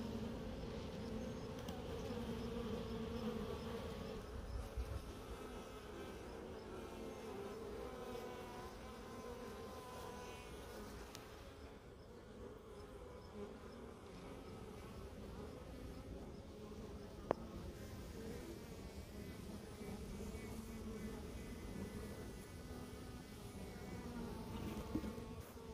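Honeybees from a rescued colony buzz steadily around cut-out comb secured in frames with rubber bands, a close, continuous droning hum with a couple of faint knocks and no talking.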